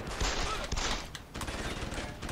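Bursts of rapid gunfire from the video game Deus Ex: Human Revolution, a dense, loud volley of shots with mechanical clatter filling the short stretch, no talk over it.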